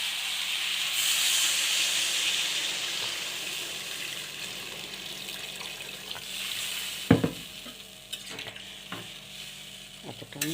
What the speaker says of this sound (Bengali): আমি জল দিলাম, কেন একটু ফুটবে আলুটা, আলু মাছ ফুটবে।